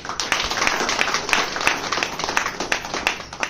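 An audience at a business event claps with scattered hand claps that blend into a moderate, uneven round of applause lasting a few seconds, heard in a reverberant room.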